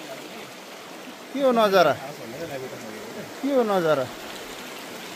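A river stream flows beside a hiking trail with a steady, continuous rushing wash, heard near and moderately loud, while a person talks briefly twice over it.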